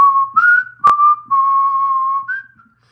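A person whistling a short wavering tune close to the microphone, with sliding notes and a brief sharp click partway through, ending in silence.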